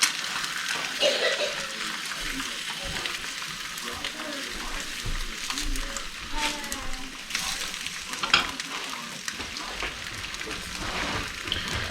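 Eggs sizzle and crackle in a hot frying pan in a home kitchen, a continuous spitting fry with bursts of popping, close up, and a few scrapes or stirs between.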